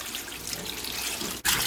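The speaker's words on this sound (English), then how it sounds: "we're gonna top that with water. You want to add enough water to cover everything" Tap water pours into a soup pot holding turkey bones and carrots, a steady close rushing hiss that breaks briefly and then surges brighter and louder near the end, with no talking.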